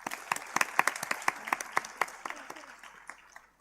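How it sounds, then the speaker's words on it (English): Applause for the guest at the ISGNS National Symposium 2023, a smaller group clapping in distinct sharp claps that thin out and fade toward the end. "Please give sir a huge round of applause"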